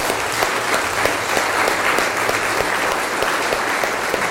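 A church congregation claps steadily for Jesus during a worship service, dense sustained applause filling the room with no talk over it.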